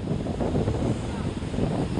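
Large waves breaking at a seaside shore, a steady broadband roar of surf mixed with wind buffeting the microphone, constant and close for the whole stretch.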